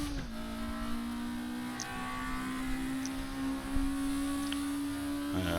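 A VW Scirocco race car at the Brands Hatch GP circuit gives a steady, close engine drone under braking, with brief shifts in pitch at the start and near the end as it drops into second gear.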